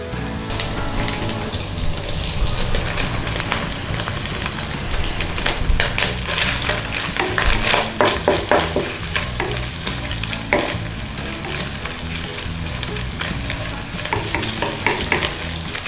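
Bacon frying in a pan, its fat rendering out, crackles and sizzles in a steady, dense, close-up stream with fine spitting pops throughout and no voices.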